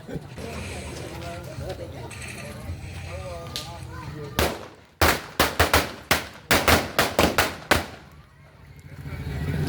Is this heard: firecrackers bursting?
yes